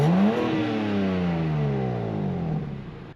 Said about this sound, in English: these beautiful aggressive black exhaust tips, these quad tips that sound incredible